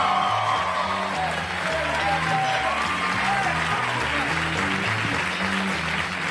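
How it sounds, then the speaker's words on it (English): Comedy club crowd applauds and cheers as a comic is brought on stage, steady loud clapping with whoops and a musical walk-on bed underneath throughout. "rousing round of applause for Mr. Pat McGann"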